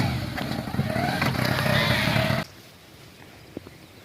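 A motorcycle engine revs and pulls away nearby, loud and steady for about two seconds before cutting off abruptly, leaving quiet background with a faint tap.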